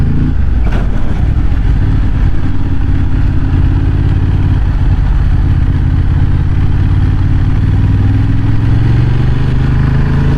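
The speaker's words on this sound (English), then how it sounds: "This is a lovely engine." A Honda Hornet 750 engine drones steadily and loudly while the motorcycle is ridden, its pitch slowly rising toward the end under constant wind rush, with no talking.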